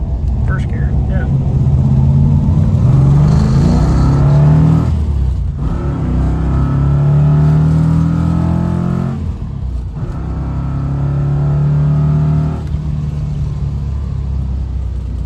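A Dodge Challenger T/A 340 pulls away in first gear with a deep, rumbling engine note that rises and drops through several revving pulls, close and loud, with some talk in the background.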